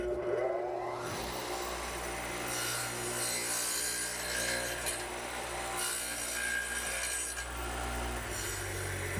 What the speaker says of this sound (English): since I have a radial arm, I've set it up with a dado head cutter to just nibble away the material